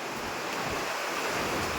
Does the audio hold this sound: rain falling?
yes